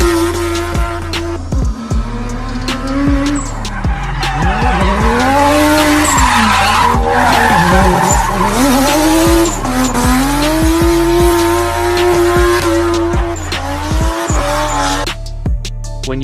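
A car drifts with sustained, loud tire squeal that rises and falls in pitch alongside a revving engine, continuous over many seconds with no talk.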